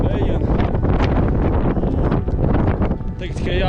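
Strong gusting wind buffets the microphone high on the 3340 m Chaukhi mountain pass in Georgia, a steady loud roar throughout with no clear speech.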